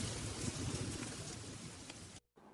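Steady rain falls for about two seconds as a dense, even patter, then stops abruptly and leaves silence; no voices are heard.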